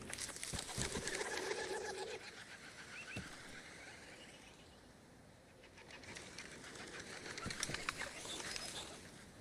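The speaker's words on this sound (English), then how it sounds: "after you scare the flock of birds away, they'll actually come back after a short time" A flock of birds takes flight in the video game Arma Reforger, with a continuous whir of many flapping wings and some soft cooing, rising and falling over a broad wash of ambience.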